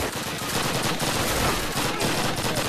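Dense rapid gunfire from a Call of Duty game fills the short stretch at a steady loud level, sounding like continuous automatic fire with no pauses and no talk.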